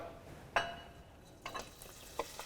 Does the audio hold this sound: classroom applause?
no